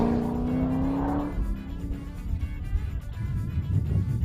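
A 2010 Corvette prototype's engine roars close by on a racetrack as the car slides its tail out. A high revving note drops away into rough, rumbling engine and tire noise that stays loud throughout.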